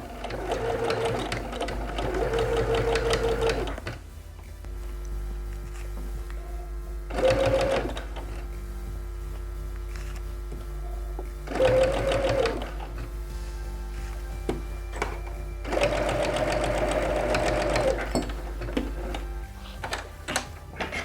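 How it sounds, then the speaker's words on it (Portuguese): A sewing machine stitches a straight seam around a fabric bag in about four loud, whirring bursts of rapid motor-driven stitching, separated by quieter pauses with a low steady hum underneath. "E a partir daqui fazemos então a costura reta"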